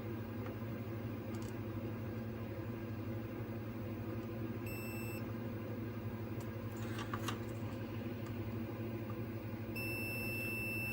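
A multimeter on continuity test gives two short, high electronic beeps, a few seconds apart, while probing an Xbox 360 S board with the red dot of death and error 0012. A steady low hum runs underneath.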